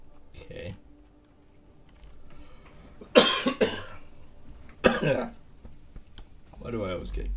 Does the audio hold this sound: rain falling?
no